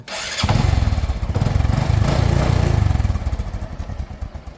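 A Honda Dream 125cc motorcycle engine, about 3,031 km on it, starts up and idles close by, a loud throbbing putter with a steady rapid pulse that rises slightly and then settles.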